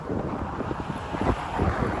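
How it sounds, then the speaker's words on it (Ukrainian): Wind buffets the microphone in low, rumbling gusts, loud and close, with no one speaking. "тут вітер. Надіюсь, мене буде чого чути."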